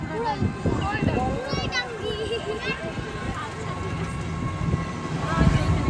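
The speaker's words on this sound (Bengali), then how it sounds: "ট্রেনটা হচ্ছে ঢাকা থেকে যে আসে" A passenger train from Dhaka rumbles past nearby with rattling wagons and a steady mechanical roar, while people chatter in the background and voices rise over the noise.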